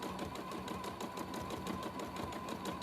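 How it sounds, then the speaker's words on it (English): A sewing machine doing free motion quilting hums with a fast, even stitching rhythm, close and steady for the whole stretch, with no talk. "watching someone do free motion quilting"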